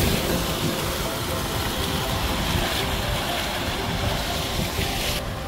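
Strong wind roars steadily outdoors near water in Israel, a loud, continuous rush that buffets the microphone for the whole stretch, with no clear speech over it.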